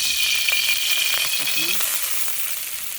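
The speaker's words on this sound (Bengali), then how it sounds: "তেজপাতা, জিরা, পিঁয়াজটাকে আমি এখন বাদামি করে ভেজে নিব।" Bay leaf, cumin and onion fry in oil in a kadai, giving a bright continuous sizzle close by with a few soft stirring clicks, the hiss easing slightly toward the end, no one speaking.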